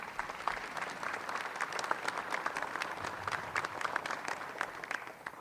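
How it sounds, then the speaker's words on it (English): An audience at a North Iowa community event breaks into dense, steady applause, many hands clapping at once and filling the room at an even level throughout, with no voices standing out. "Let's give them all a round of applause."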